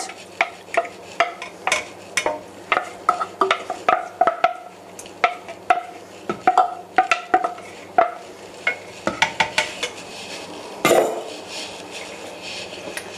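A spoon stirs pineapple and its juice into a pot of ginger marmalade, producing a steady series of close, sharp clinks and scrapes against the pan, ending in a brief louder clatter.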